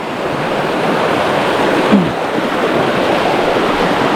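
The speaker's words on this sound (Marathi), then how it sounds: "पाण्याचा प्रवाह बघा कसा आहे" A river current rushes past in a steady, loud wash of water close by, continuous and unbroken throughout, with no voices.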